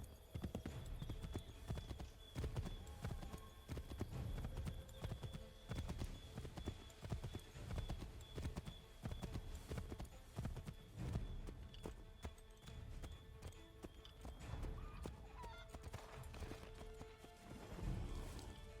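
Horse hooves clip-clop steadily through a video game scene in Assassin's Creed III, a brisk rhythmic trot with occasional snorts, mixed with game effects and music.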